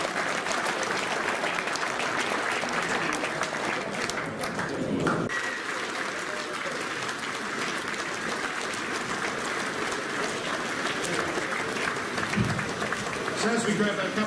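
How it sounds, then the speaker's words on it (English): Audience applause at a rugby league centenary dinner, a sustained wash of clapping from a large room that carries on steadily for the whole stretch. "Can you please give Bob Bennett a round of applause on behalf of Wayne."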